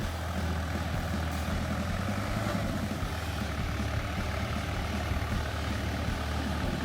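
A tractor engine runs steadily with a dense, low rumbling drone that stays constant and moderately loud throughout, with no pauses or changes in pace.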